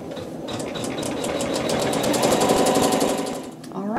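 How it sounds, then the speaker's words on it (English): A sewing machine runs steadily while sewing a tack-down stitch on fabric, giving a fast, even mechanical chatter at close range that slows and stops near the end. "we can go ahead and sew the tack down stitch"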